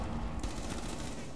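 A rapid burst of video-game gunfire in a headshot kill, a dense crackling volley of shots filling the short moment, fairly loud with no talk over it.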